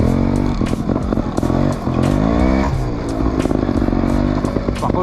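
A 2007 Gasgas 300 TXT Pro two-stroke trial motorcycle is ridden close by, its engine revving up and down in quick bursts with crackling blips and a sustained rising pull midway, loud and without talk.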